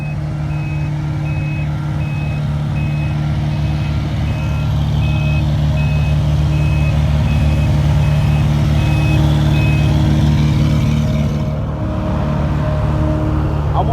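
Asphalt trucks back up at a road paving site, a steady high reversing beep repeating over a constant low diesel engine rumble for the whole stretch, loud and close, with no talking.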